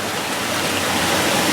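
Water pours and rushes steadily as a fish pond filter fills back up, a dense, continuous splashing flow close by with no voices.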